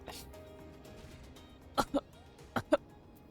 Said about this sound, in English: Cough.